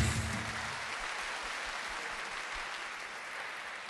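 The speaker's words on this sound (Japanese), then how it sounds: "改めて大きな拍手を送りください。" An audience at a football club's new-season presentation applauds newly signed players, a broad, even wash of clapping from a large crowd, fairly distant and sustained throughout.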